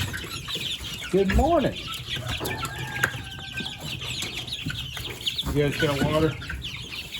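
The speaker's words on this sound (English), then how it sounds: "Hello, spring chickens." Young spring chickens cluck and chirp in a barn at morning feeding time, several short bursts close by, with a person greeting them and talking over the birds.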